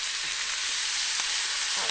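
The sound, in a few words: balsamic vinegar sizzling in pan with asparagus and shallots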